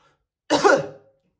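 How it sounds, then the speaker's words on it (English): A single forceful, hard cough bursts out close and loud after near silence, harsh and throaty like a vigorous throat-clearing, then fades within about half a second. "we want to try what's called a vigorous cough, which just means you're coughing really, really hard"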